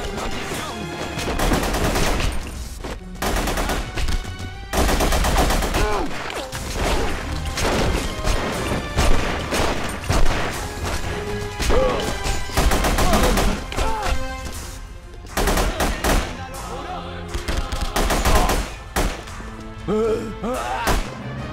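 Loud video game gunfire from The Punisher, dense bursts of automatic and single shots with impacts and crashes across the whole stretch, brief voices now and then amid the shooting.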